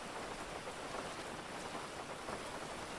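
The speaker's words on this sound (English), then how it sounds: "It's fucking raining." Steady rain hisses in a video game roleplay scene, a dense, even wash of drops pattering on surfaces with no voices, continuous and close for the whole stretch.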